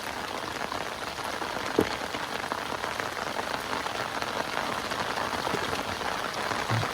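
Steady rain pattering onto a riverbank, a dense continuous hiss of drops with no voices, one brief sharp tap standing out early on.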